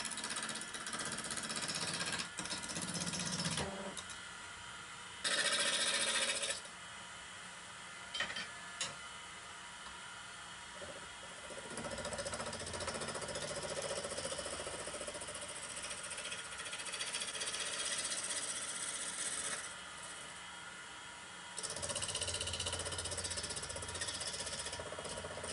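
A wood lathe turns a wooden racing car held between centres at full speed, the bumpy early cut giving a steady buzzing, chattering roar that rises and drops in several long stretches, with no talk.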